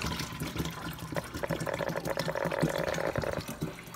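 Water pours into a coffee maker in a steady, fairly close gurgling stream that rises slightly in pitch as it fills, with no talking over it.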